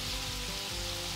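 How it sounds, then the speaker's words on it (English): Shrimp and anchovy butter sizzle steadily in a hot skillet, a dense, even frying hiss with no talk. "now I'm gonna add the anchovy butter"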